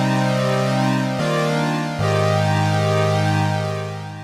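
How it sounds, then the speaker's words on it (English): Sustained Korg PolySix synth oscillators run through its phaser effect, loud and continuous with a slow sweeping shimmer, one chord change near the middle. "And here's the sound of the phaser."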